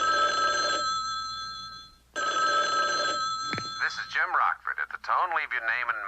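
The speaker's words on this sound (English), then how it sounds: "I've got a phone call." A telephone rings with steady electronic tones, then after a short gap gives way to a voice that sounds like an answering machine greeting.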